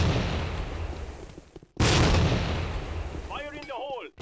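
Grenade blasts in the shooter game Tactical Ops, two loud booming explosions with rumbling decay, the second hitting sharply after a brief dip, followed by a short voice shout.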